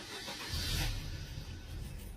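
A 1989 Mercedes 2.0 with manual gearbox cranks and catches, a low engine rumble swelling near the midpoint then settling into a quiet steady idle, faint and close.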